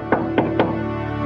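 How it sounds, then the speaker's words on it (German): Three sharp knocks on a house door in a spoken German fairy-tale retelling, evenly spaced and close, followed by a quiet musical background. "Klopfte der Wolf an die Tür"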